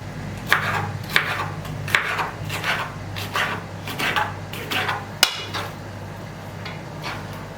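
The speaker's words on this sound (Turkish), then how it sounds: "Çok küçük olmadan küp küp doğruyorum." A knife dices vegetables into cubes on a cutting board in an uneven rhythm, sharp close knocks about once a second with no talking.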